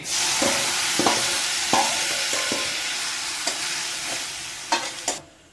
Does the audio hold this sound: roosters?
no